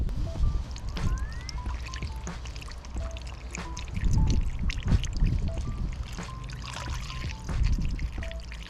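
Liquid engine cleaner is poured into a car's oil filler opening with the engine off, making a close, steady gurgling trickle with small bubbling surges and faint drips throughout.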